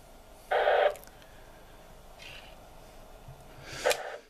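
Noise from a Jaycar MP3800 budget switch mode power supply picked up by a radio receiver, short bursts of buzzy, hooting interference separated by quieter hiss, with one burst near the start and another near the end.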